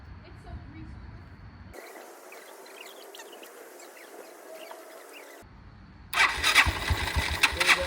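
Engine of a restored motorcycle being started, turning over in uneven bursts before a louder, rougher burst of sound near the end, heard close by.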